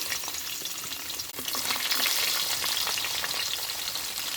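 Mustard seeds spluttering in hot oil in a pot for a Kerala chicken curry, a dense close crackle that grows louder after a brief dip.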